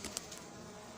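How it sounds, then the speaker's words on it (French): Honeybees at a hive feeder give a faint, low-level buzz with a few brief louder passes close by in the first instant, then a steady soft hum. "Voilà, abeille libérée. J'ai libéré l'abeille."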